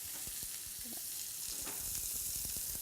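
Beef pieces browning for a wine stew sizzle steadily in a hot pan, a continuous bright hiss with scattered pops and crackles, close and alone with no talking.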